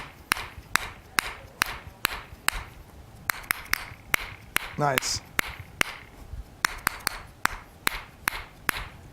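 Hammer tapping on a person's body during a chiropractic-style health treatment, a steady series of sharp, close taps in a regular rhythm, with a brief pause midway and a short spoken word.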